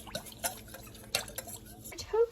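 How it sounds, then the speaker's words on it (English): A whisk or spoon clinks and scrapes in a bowl as a sauce thickened with cornstarch is mixed, giving a few quick, light metallic taps and swishes at close range. Quiet kitchen noise fills the background. "And then you just whisk it all together."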